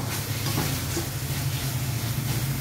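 Beetroot halwa being stirred in a pan on the stove, a steady sizzle with soft scraping strokes of the spoon running throughout, close and continuous with no talking.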